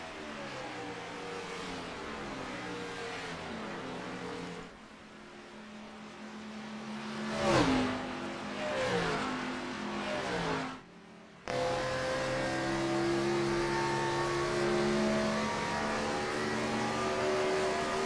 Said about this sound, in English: You can hear these guys fighting this right rear tire on throttle, on corner exit.